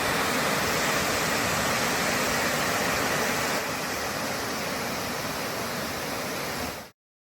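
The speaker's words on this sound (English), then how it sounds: "we're walking through here, and you can hear the falls," Bond Falls, a waterfall in Michigan's Upper Peninsula in winter, gives a steady, broad roar of rushing water, loud and unchanging throughout before cutting off abruptly.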